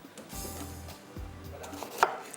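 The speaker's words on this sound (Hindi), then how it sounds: "यहाँ पर हम इसको कटिंग कर लेते हैं, क्यूब्स कटिंग कर लें" A knife chops capsicum and onion into cubes on a board, a few soft thuds spaced irregularly, fairly close, ending with one sharper knock, no talking.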